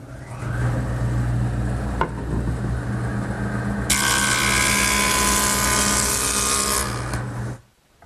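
Jointer machine planing a wooden piece in a woodworking shop: a steady, loud motor whine throughout, with the cutting sound growing brighter and harsher midway, then cutting off abruptly near the end.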